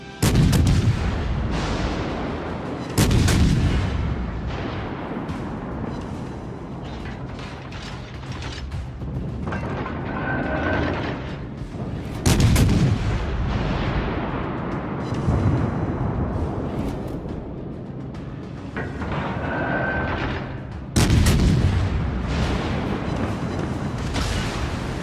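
Heavy battleship guns boom in World of Warships, several loud salvos spaced roughly ten seconds apart, each a sharp blast trailing into a long rumbling decay, with mechanical clanks and creaks between shots.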